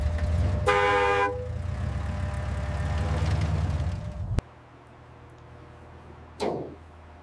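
A 1978 Toyota Land Cruiser FJ40 sounds a single short, loud horn blast over a rumbling idle, which cuts off sharply, followed by quieter background and a brief whoosh.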